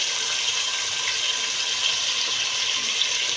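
Water is poured into a spice paste of salt and ginger-garlic paste while cooking spinach. The pour is a steady, close, continuous splashing stream, heard alone.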